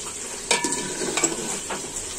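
Tilapia fish and jackfruit seeds being sautéed in a pan, a continuous hiss of frying oil broken by a few scraping strokes of a spoon against the pan, no voices.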